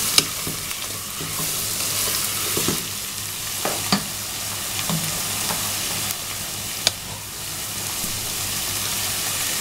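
Meat stirred and sautéed in a pan while cooking kebab, with a steady loud sizzle and intermittent scraping stir strokes throughout, no talking.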